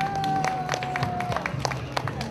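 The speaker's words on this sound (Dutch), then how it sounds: "Eén applaus voor Tini!" Quick, dense clapping from a festive crowd at a multicultural community event, steady and continuous for a couple of seconds, with a faint tone and some background chatter mixed in.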